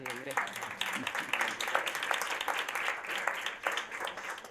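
Audience at a foundations association report presentation gives a round of applause, quick crisp claps building into steady, moderately quiet clapping after a brief voice at the start.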